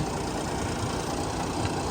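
A tractor's diesel engine idles steadily with a low, continuous rumble, close by and alone, with no talking.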